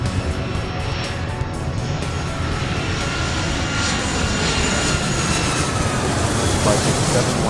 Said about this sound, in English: Big Jet 841, increasing speed.